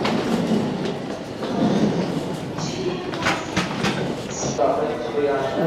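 A Yamanote line train pulls out of a station, its rumbling and clattering wheels rising under nearby talk, with brief squeals and announcement tones mixed in.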